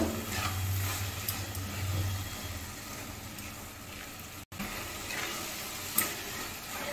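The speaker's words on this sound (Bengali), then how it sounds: "ঘির সঙ্গে হালুয়াটাকে ভালো করে গাজরটাকে মিশিয়ে দেব।" Grated carrot halwa cooked in ghee is stirred in a pan, giving a continuous soft sizzle with faint scraping strokes and one brief knock, and no voices.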